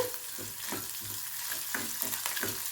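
Onion and garlic sauté in a clay pot, stirred with a coconut-shell ladle for a fish curry, giving a steady close sizzle with soft rhythmic scraping strokes throughout.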